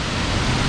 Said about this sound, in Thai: นี่ดูบรรยากาศแค่น้ำตกปึ๊บโหยิ่งเข้าใกล้ยิ่งสวย